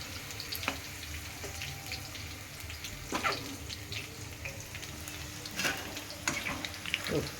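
Ivy gourd pakodi frying in hot oil, a continuous close crackling sizzle with occasional louder spatters and utensil scrapes, no talk heard.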